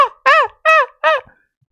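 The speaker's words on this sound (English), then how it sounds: "Okay, see, when you start hearing crows" Crows cawing, four loud harsh caws in steady succession, close and clear with silence between calls.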